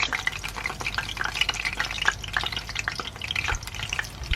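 Aromatics fry in hot oil in a pot, a continuous crackling sizzle with small pops and bursts, fairly close and steady throughout, with no talking.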